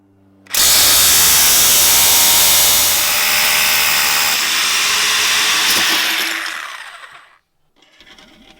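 A power drill bores pilot holes into the back of a box with a loud, high whine. It starts abruptly, runs steadily for about six seconds, then winds down to silence, followed by faint handling noise.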